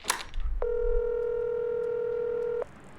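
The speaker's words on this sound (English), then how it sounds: "Coral pulls out her phone to call Christian." A phone chirps as it is dialed for a call, with a brief rustle and then a single steady electronic tone holding for about two seconds before cutting off, close and clear in a quiet room.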